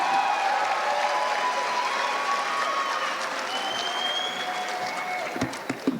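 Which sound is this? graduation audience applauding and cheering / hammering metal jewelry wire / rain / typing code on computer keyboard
graduation audience applauding and cheering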